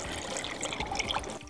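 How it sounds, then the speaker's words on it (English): Water trickles and pours steadily into freshly distilled, very strong rum to lower its proof, a soft continuous liquid stream with no voices, ending in a brief quieter moment. "he adds water to bring the level down a bit."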